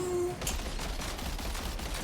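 Rapid gunfire in the Death Stranding 2 video game, a dense fusillade of repeated shots with a short steady tone at the start, fairly loud and continuous with no voices over it.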